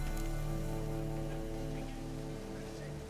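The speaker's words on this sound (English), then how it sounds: "Well, it rains." Rain falls steadily in The Witcher 3, a soft continuous patter laid over a low droning ambience, with no pauses across the stretch.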